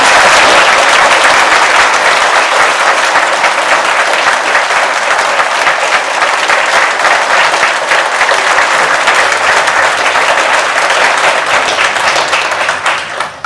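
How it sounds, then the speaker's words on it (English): A crowd at an all-candidates meeting in Saugeen Shores gives a long, dense round of applause, loud and continuous for over ten seconds before tapering off at the end. "Now's a good time to give them a round of applause."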